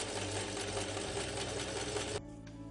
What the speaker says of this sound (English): Just keep on sewing right around the top of the edge of the skirt